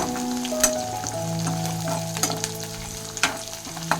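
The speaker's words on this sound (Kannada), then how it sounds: "ಚೆನ್ನಾಗಿ ಫ್ರೈ ಮಾಡ್ಕೊಳ್ಳಿ. ಯಾಕಂದರೆ ಚೆನ್ನಾಗಿ ಫ್ರೈ ಆದ್ರೇ ಒಳ್ಳೆ ಟೇಸ್ಟ್ ಬರುತ್ತೆ." Spices sizzle steadily in a pan for paddu chutney, with a constant frying hiss broken by sharp spoon scrapes and taps as they are stirred, over a faint sustained tonal hum.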